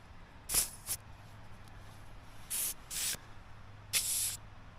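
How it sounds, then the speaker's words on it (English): Three or four short bursts of air hiss from a tire as a gauge hose releases pressure, each sharp and fairly loud over quiet background hum. "You can actually use this to let air out."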